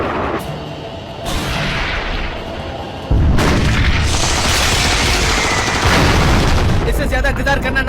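Heavy gunfire and booming explosions from an action movie scene roar loud and dense, with thick rumbling blasts building in intensity across the clip.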